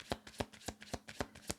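A deck of cards is shuffled by hand, a run of six or seven crisp riffling snaps in quick, slightly uneven rhythm, close and fairly quiet.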